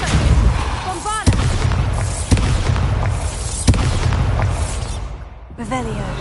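Booming Bombarda blast spells in Hogwarts Legacy: several heavy explosive thumps spaced roughly a second apart over a dense game soundscape, loud and close, with brief magical whooshes.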